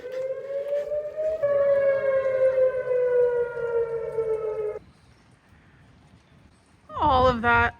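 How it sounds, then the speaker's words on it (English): A long wailing tornado warning siren drones steadily during a thunderstorm, then cuts off; a brief animal cry follows near the end. "The sirens are going off."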